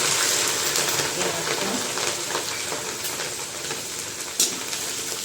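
Ginger and green chillies hit hot oil with cumin in a frying pan for a spinach and potato curry, a loud continuous sizzle with faint stirring and a single clink near the end.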